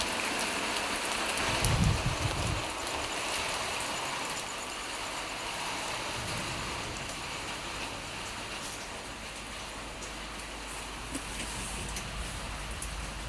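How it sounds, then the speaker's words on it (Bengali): Heavy rain pours down in a steady, dense hiss that holds evenly throughout, with a brief low rumble near the start and no voices. "জোড়াই পড়ছে বৃষ্টিটা"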